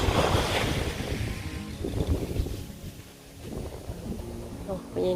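Strong wind buffets the microphone in heavy gusts at Khlong Nin beach, Koh Lanta, Krabi, with surf rolling in the background and a voice speaking briefly.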